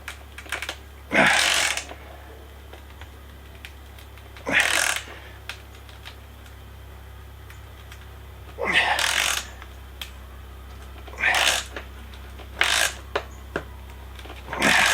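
A SUZUME extra-long flex head ratcheting wrench tightens a nut through a board. Short bursts of rapid ratchet clicking repeat at intervals, close and distinct, with quiet gaps between them.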